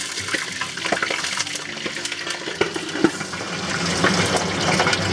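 Pork belly pieces frying skin side down in a pan of hot oil, a steady loud sizzle dotted with sharp pops and crackles, with no talking.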